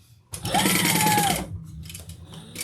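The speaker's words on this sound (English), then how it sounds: "And then we're going to stitch inside this line." A sewing machine runs in one sustained burst of rapid, steady stitching through a leather and vinyl crossbody bag, loud and close for about a second, then stops, leaving quieter handling noise.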